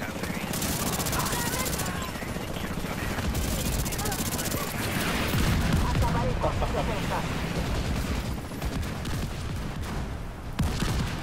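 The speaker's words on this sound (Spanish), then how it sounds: "Ya las explosiones de aquel lado" Loud, continuous gunfire and booming explosions from the video game The Division 2, at a Coney Island baseball field, crowd the whole scene, with bursts of shots and heavy rumbles throughout, and a voice speaks briefly amid the chaos.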